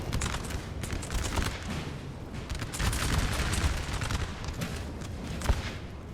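Dense musket volleys and scattered gunfire crackle continuously against line infantry in a Napoleon Total War battle, with overlapping shots and a sharper report near the end.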